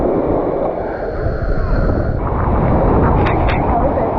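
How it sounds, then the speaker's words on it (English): Strong wind at a sandy ocean shore with blowing sand and waves, roaring loudly and continuously with heavy buffeting on the microphone throughout. "Way too windy."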